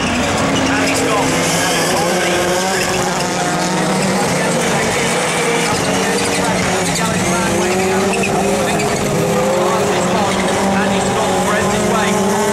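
Rallycross race cars compete at the Croft circuit with loud, continuous engine roar, revving and gear changes, and bursts of tire squeal as the leaders run nose to tail, close and intense throughout.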